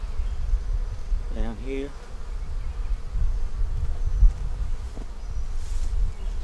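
Bees swarm and buzz around an open, aggressive hive near a pine tree, a steady close drone that fills the whole clip while someone speaks briefly over it.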